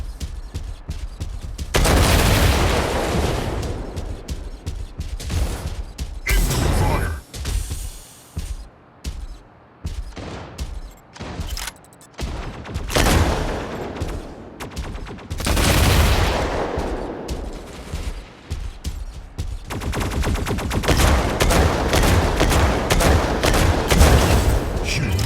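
Rapid gunfire bursts and heavy booms from battling mechs in the Mech Arena video game, loud and nearly continuous across a 2v2 match, with brief lulls between volleys and a voiced announcer calling out alerts.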